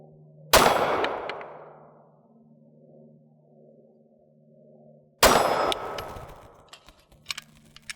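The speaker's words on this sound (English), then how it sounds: "The gun fires almost in a startling speed from the wall." A Canik TP9 pistol fitted with a Freedomsmith trigger fires two single shots several seconds apart, each a sharp loud crack with a ringing, decaying tail, followed by faint clinks.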